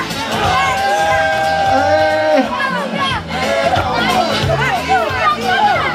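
A crowd at a local sports festival cheers and shouts excitedly, high voices and whoops rising over a continuous babble of chatter.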